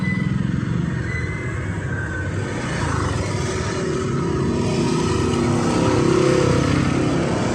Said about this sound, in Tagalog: Ayan, umandar yung motor.